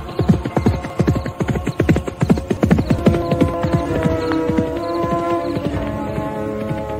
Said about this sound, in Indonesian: Kuda tanpa penunggangnya itu kemudian berderap meninggalkan Ken Arok